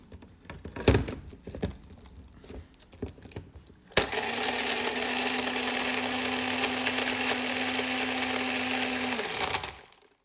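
A blender making a Milo smoothie with milk whirs loudly and steadily for several seconds after some handling clatter, then cuts off abruptly.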